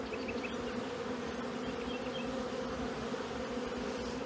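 Honeybees buzz at an acacia honey hive just after rain, with the foragers crowded inside: a dense, steady, close drone that runs unbroken throughout with no voices.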